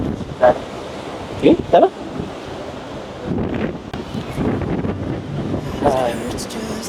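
Wind buffets the microphone by the sea while surf rolls in as a steady rushing wash, with a few short spoken words over it.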